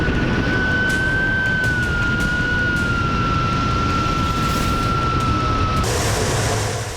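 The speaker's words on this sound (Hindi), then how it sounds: "रूस के सुखोई 25 फाइटर जेट ने दुश्मन के ठिकानों पर मिसाइल्स" A Russian Sukhoi Su-25 fighter jet roars steadily and loudly with a sustained high engine whine, heard alone with no voices, the noise easing slightly toward the end.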